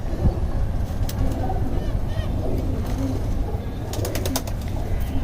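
Bengali working-line pigeons coo in a home loft, a soft continuous murmur of low calls with occasional flutters, steady throughout amid background noise.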